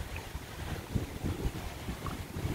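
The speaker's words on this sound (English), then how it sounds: "It's so windy at that time." Wind blowing by a lake in Vermont, a steady rushing roar with gusty buffeting against the microphone throughout, and no voices.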